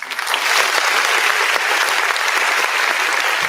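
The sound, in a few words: audience round of applause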